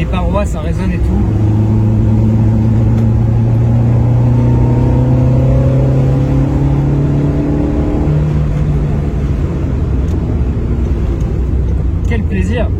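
A 1991 Peugeot 205 Rallye with a fully stock exhaust revs hard, its engine note climbing in steady sweeps through the gears, loud and close from inside the cabin, then settling to a lower drone.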